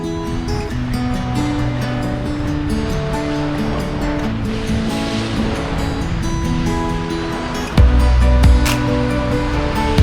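Waves wash and surge around a moving wooden sailing ship at sea with steady wind noise, a loud whoosh of water breaking near the end.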